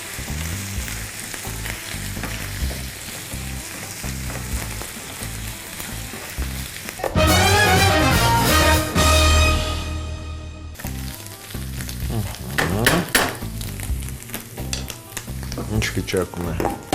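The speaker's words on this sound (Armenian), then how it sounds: "Փաստորեն բլղուրը հասունանում է, լոբին տապակվում է" Beans sizzle and crackle in a pan alongside bulgur, a steady frying hiss that swells into a louder burst of sizzling midway, with stirring scrapes and light utensil clinks.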